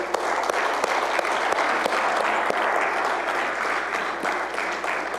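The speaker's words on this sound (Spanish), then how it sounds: "Dale un aplauso a Dios." Steady congregational applause fills a church service, dense continuous clapping from many hands with a few sharper individual claps standing out.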